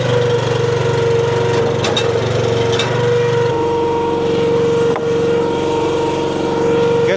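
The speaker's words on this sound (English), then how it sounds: "So I'm going to start the splitter. We'll warm up the splitter" A Wolfe Ridge 17VS log splitter's small engine runs steadily close by, a loud continuous drone with a faint shift in its tone about halfway through and no voices over it.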